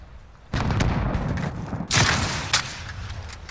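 A rocket launcher fires in Call of Duty: Modern Warfare, with a sudden loud blast followed by a second sharper burst and rumbling explosion, close and punchy with no talk.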